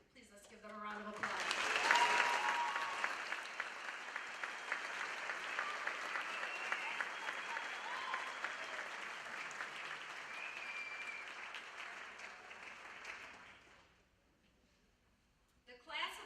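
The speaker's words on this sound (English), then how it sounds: "Please, let's give them a round of applause." Sustained applause from an audience at a high school honors night, steady and full for about twelve seconds before fading out, with a brief burst of clapping returning at the very end.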